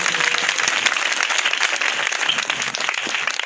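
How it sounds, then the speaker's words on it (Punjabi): A congregation at a village worship service in Kotla Chahal claps loudly and continuously, a dense, steady roar of hands close by with faint voices mixed in. "ਜਿਹੜੀ ਜ਼ੋਰਦਾਰ ਤਾਲੀ ਲਗਾਈਏ ਖੁਦਾਵੰਦ ਦੇ ਨਾਮ"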